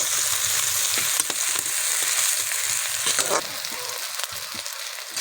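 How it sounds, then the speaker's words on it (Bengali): Onions frying in oil in a wok (kadai) until browned, a loud continuous sizzle with intermittent stirring scrapes, close and steady throughout. "দেখুন কড়াইয়ে তেল দিয়ে পেঁয়াজগুলোকে দিয়ে দিয়েছি এবার লাল লাল করে ভেজে নেব"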